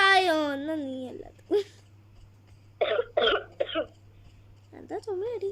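A person coughs several times in short bursts, with a voice and talking before and after the coughs in an indoor setting.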